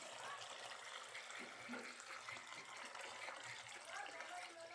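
Water pours steadily into a cooking pot for mung bean soup, a continuous gushing splash at close range with quiet talk in the background.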